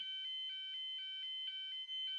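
A hospital fire alarm sounds alone as a steady, evenly pulsed electronic tone, about nine bright beeps roughly a quarter second apart, loud and close.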